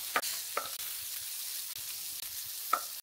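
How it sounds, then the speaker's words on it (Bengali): Surma fish sizzles steadily in oil in a frying pan, with a few soft clicks and taps as the fish is turned over. "মাছের একটা সাইড হয়ে গিয়েছে, আমি এখন এটা উল্টাই নেব"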